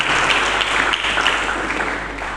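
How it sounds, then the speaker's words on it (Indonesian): A church congregation applauds for Jesus Christ during a Sunday sermon, a dense, steady wash of many hands clapping together that stays loud throughout with no voices on top. "Berikan tepuk tangan yang meriah bagi Yesus Kristus itu."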